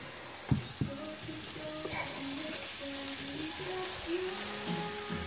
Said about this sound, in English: So the mushrooms are almost done, so I'm going to add the bacon.